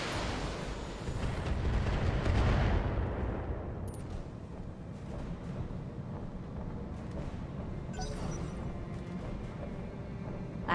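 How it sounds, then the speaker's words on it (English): Mech weapons fire on an enemy target during a BattleTech battle, a loud blast of roaring, crackling noise that peaks early and then trails into a lower rumbling barrage with scattered sharper hits. "Firing on target."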